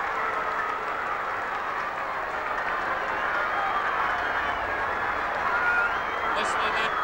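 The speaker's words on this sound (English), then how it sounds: "Listen to that crowd go mad" A large football crowd roars at the 1966 Grand Final between Collingwood and St Kilda, a dense sustained cheer that swells and continues without a break, with no distinct voices standing out.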